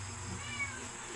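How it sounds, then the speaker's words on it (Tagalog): A domestic cat meows faintly in the background once or twice over a steady low hum, brief and somewhat distant. "Ayan naman yung pusa, oh."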